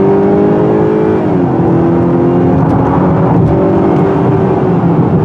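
A 2018 Honda Accord Touring with automatic transmission accelerates hard in sport mode, its engine droning steadily and rising in pitch, shifting once, over loud continuous road and wind noise from inside the cabin, with no talking.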